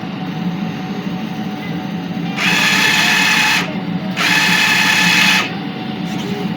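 A DTF printer running a nozzle test after head cleaning, two loud bursts of several seconds each of whirring, buzzing carriage and head motion over a constant low machine hum, with no talk.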